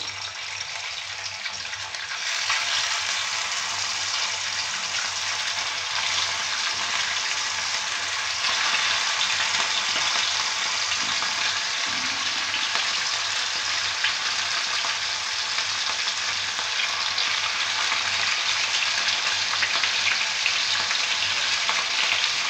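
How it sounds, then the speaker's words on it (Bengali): Fish sizzling and frying in hot oil for a homemade dish, a loud, steady crackle that starts just after the fish goes in and continues unbroken throughout, with no talking. "তেলটা গরম হয়ে গেছে, আমি এবার মাছগুলো ছেড়ে দেবো।"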